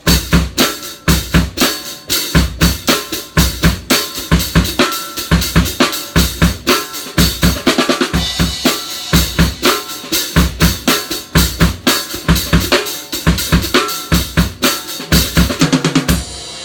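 A full drum kit plays a steady groove with off-kilter accents, kick, snare and cymbals repeating in a shifting pattern, loud and close.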